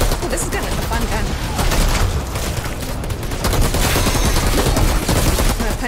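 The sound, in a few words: gunfire from a gun in the video game Outriders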